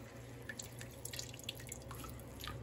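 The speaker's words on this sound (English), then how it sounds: "The salt pulls all that water out and it's just running down my hand." Water drips and trickles from salted grated squash squeezed by hand in a kitchen, giving soft, scattered droplet ticks over low background hum.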